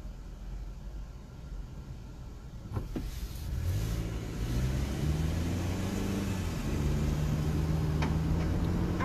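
Car traffic on the BQE and Triboro Bridge heard from inside a moving car: a continuous low rumble of engine and road noise, with a passing whoosh and a rising engine tone as the car speeds up.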